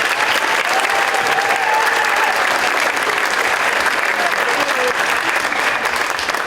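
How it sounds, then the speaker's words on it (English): Sustained applause from a crowd honoring recipients at a tech awards ceremony, loud, dense and even throughout with no pauses. "One more round of applause for all of them."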